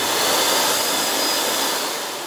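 A Parkside spray extraction cleaner runs with a loud, even, broadband rushing roar close by, holding steady before easing off slightly at the end, with no voices.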